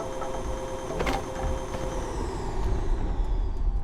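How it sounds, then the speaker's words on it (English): Exor creature in the Abiotic Factor video game, sensing the players after a vacuum cleaner was used: a steady mechanical droning growl with a brief harsh rasping burst, fairly loud and continuous, without speech. "That's the sound of an Exor who's aware where we are because we used a vacuum cleaner."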